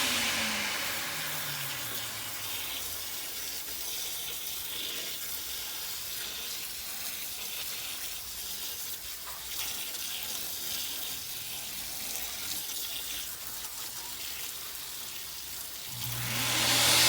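Water sprays over an older HVAC unit being cleaned with soap and water, a steady close hiss running throughout and swelling louder at the very end.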